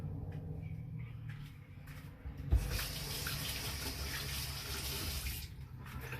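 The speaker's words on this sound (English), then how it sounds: "I'm just gonna wash my hands so I don't get meat all over everything in my house." A kitchen tap gushes steadily into the sink while hands are washed after handling raw steak, a close, continuous splashing rush that swells after a brief quieter start.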